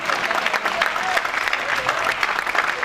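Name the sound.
audience applause for the children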